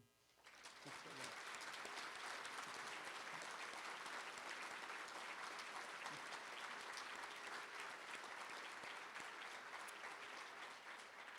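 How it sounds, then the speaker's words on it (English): Sustained applause from a gala audience honoring Mitchell scholars at the Mitchell Institute Gala, swelling in after a brief pause and holding steady and full throughout, with faint voices mixed into the clapping. "I certainly want all of us to join in a round of applause to each and every one of the Mitchell scholars"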